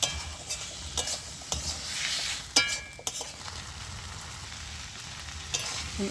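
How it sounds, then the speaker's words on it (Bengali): Fried potatoes are sautéed in a spiced masala, giving a continuous sizzle in the pan broken by sharp clicks and scrapes of a stirring spoon at irregular intervals. "এবার আমি ভেজে রাখা আলুটা দিয়ে দিচ্ছি। আলুটা দিয়েও আমি ভালো করে কষিয়ে নেব।"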